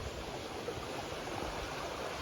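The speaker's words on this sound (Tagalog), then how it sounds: "May nadaanan din tayo guys na parang sapa." A mountain creek flows over rocks in a steady, soft, continuous rush of water, faint and unbroken, with no voices over it.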